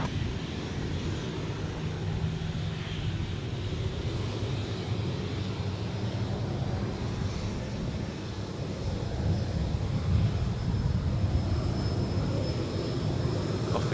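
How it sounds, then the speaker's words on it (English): An airliner taking off from Adelaide Airport, its broad jet-engine roar heard from a distance, steady and building slightly toward the end, with wind noise on the microphone. "Cleared for takeoff."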